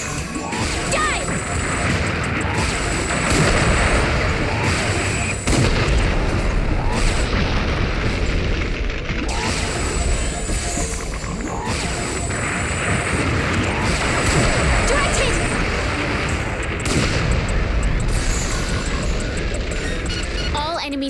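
Explosions in Liberation Maiden as enemy submarines are destroyed, a dense continuous barrage of loud crashes and booms under game music and voiced dialogue throughout.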